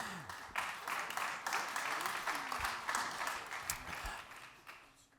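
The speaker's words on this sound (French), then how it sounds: "on peut applaudir Marie-Laure Denis qui est avec nous" Audience applause at the Digiworld Summit 2024 for the speaker coming on stage, a sustained round of many hands clapping, fairly distant and quiet, with a few voices faintly underneath.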